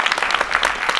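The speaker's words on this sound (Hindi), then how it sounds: "और ताली बजाओ तो जोर से बजाओ," Loud, close audience applause at a Gurukul ceremony marking sacred-thread and Vedic initiation rites, a burst of many rapid hand claps with no voices over it.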